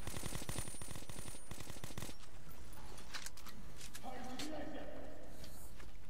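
Rapid automatic gunfire in the Metro 2033 video game, dense bursts of shots for the first two seconds followed by sparser game noise, with a voice talking over it.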